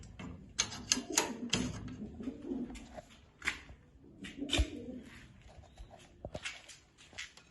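Pigeons in a breeding loft give soft, repeated coos mixed with scattered sharp clicks and taps, close by and fairly quiet, with no talk.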